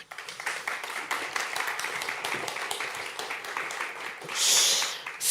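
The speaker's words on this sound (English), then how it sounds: "Applause, please." Audience at a festival talk on manhood applauding, a continuous spread of many hands clapping at moderate level, ending with a brief louder hissing burst.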